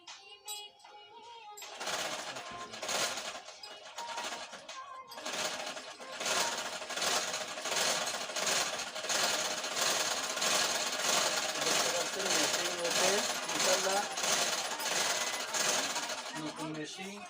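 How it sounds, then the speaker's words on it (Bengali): A new sewing machine, slightly noisy and in need of oil, runs with a fast, rattling mechanical chatter at a steady rhythm, starting after a short quiet pause and continuing close and even to the end. "নতুন মেশিন একটু তেল দিতে হবে, তার জন্য একটু তেলের কারণে শব্দ হচ্ছে সামান্য পরিমাণে।"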